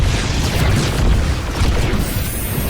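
A turret being destroyed in the real-time strategy game StarCraft II, a loud, dense roar of booming blasts and crashing debris that fills the whole clip.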